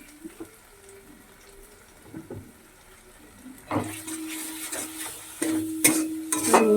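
Masala with cumin powder fries in a pan while being stirred: a soft sizzle with scraping strokes that grows louder and busier partway through, ending in sharper clatters.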